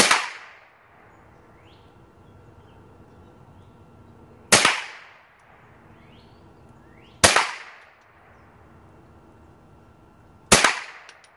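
Four single gunshots from a gun fired at a paper target, sharp close cracks spaced several seconds apart, each trailing off into a short echo over quiet outdoor background.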